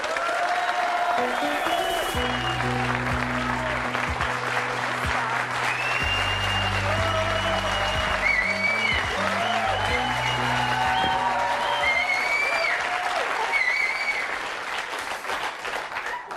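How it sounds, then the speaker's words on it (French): A TV talk-show studio audience applauds two guests, Micheline and Sylvia, on a French programme: loud, sustained clapping from a full crowd with a musical jingle playing underneath, fading slightly near the end. "Je vous demande de les applaudir très fort, Micheline et Sylvia"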